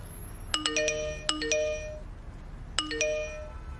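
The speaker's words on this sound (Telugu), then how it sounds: "ఏంటి ఇన్ని మెసేజ్లు వస్తున్నాయి?" A newly switched-on phone chimes with a quick run of bright melodic notification tones: three clusters of rising pings, fairly close and clear, with no talk.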